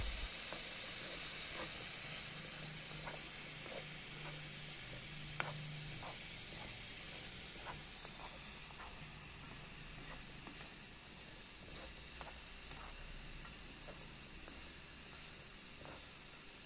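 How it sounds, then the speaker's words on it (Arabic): A courgette dish simmers in a pot on a stovetop, giving a steady soft hiss and sizzle with faint scattered clicks from stirring, continuous and fairly quiet throughout with no talking. "صافي غادي نردو فوق البوطة وغادي نبدأ نحرك"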